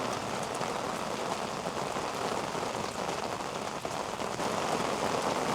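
Heavy rain pours outside in a dense, steady roar of drops hitting surfaces, loud and continuous with no voices.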